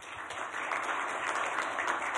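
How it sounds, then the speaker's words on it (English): Steady applause from an audience at a World Bank Institute brown bag lunch on the Global Tiger Initiative, a dense, even wash of many hands clapping at moderate distance, continuing without pause and with no voices over it. "Please join me in giving them a big round of applause."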